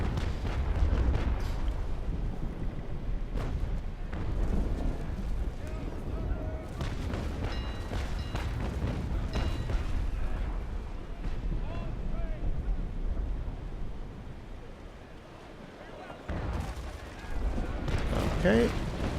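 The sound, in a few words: 6-pounder long cannons firing broadside in Naval Action Legends video game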